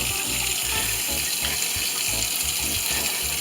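Hands are scrubbed with soap under a running sink tap, water splashing continuously and loudly with a rhythmic rubbing pattern as fingers and nails are worked clean.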